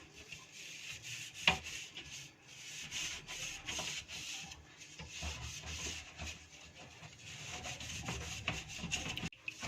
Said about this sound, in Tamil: ஸ்க்ரப்பர் வச்சுக்கிட்டால் போதும். சாஃப்டாக இருக்கிறதே வச்சுக்கோங்க.